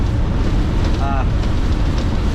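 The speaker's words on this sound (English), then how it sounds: "Man, it's windy." Steady, heavy wind on a high highway bridge roars and buffets the microphone throughout, a dense low rumble with no pauses.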